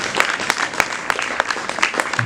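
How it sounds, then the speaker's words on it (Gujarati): An audience at an honoring ceremony applauds, a dense, even patter of many hands clapping that carries on steadily without pause. "આપણે સૌ તાળીઓના ગડગડાટથી એમને વધાવીએ."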